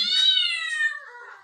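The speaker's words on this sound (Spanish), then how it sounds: "¿Y cómo hace el gato? Miau." A cat gives a single clear meow, a close, bright drawn-out cry that slides downward in pitch and trails off after about a second.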